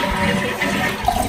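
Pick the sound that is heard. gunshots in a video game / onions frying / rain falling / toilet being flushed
toilet being flushed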